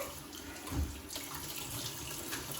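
Hot tap water runs steadily into a sink while a protein shake cup is rinsed, a continuous close splashing wash with a brief louder gush partway through.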